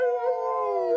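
A cartoon character imitating a dog's howl with the voice, one sustained, tonal, slightly falling wail held steadily and close, with no other sounds.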